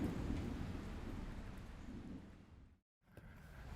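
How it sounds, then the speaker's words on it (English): Distant thunder rolls over a camp near Golondrina Mesa, a low rumbling wash that fades before a brief dead silence, then faint rain-like ambience resumes, all quiet and far off. "There was thunder off in the distance, and it only added to the moment."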